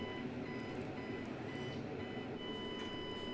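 An evidential breath test machine takes a roadside drug-driving breath sample, giving a steady electronic tone with faint intermittent beeps over a constant blowing hiss, close and even throughout.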